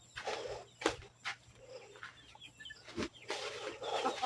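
Native chickens cluck in a farm grow-out area, scattered soft clucks and short calls at close to mid distance, mixed with rustling and movement, without talk.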